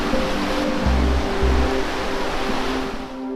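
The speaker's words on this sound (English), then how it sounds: "The soothing sound of the rushing river is always in the background." Rushing river flowing beside a canal courtyard in Annecy, France, a loud, steady wash of water with a faint low hum underneath, constant throughout and free of voices.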